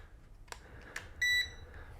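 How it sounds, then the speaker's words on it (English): An RC speedboat transmitter gives one short, high electronic beep as it is switched on, close and fairly clear over a quiet background with a few faint clicks. "we can hear it beep when we turn on"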